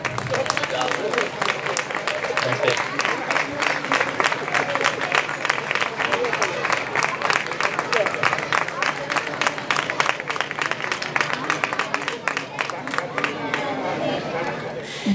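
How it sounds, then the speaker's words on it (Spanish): A large crowd applauds steadily throughout at an awards ceremony, a dense wash of clapping with some murmuring and cheering mixed in. "Fuerte aplauso."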